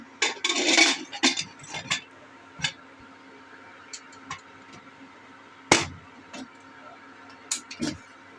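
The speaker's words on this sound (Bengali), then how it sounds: "এবার প্রেশারে আমি চাপা দেবো" A metal lid is set onto a pressure cooker of mutton in a home kitchen, giving scattered clanks and light metallic knocks, one sharp clatter standing out, with brief soft sounds between.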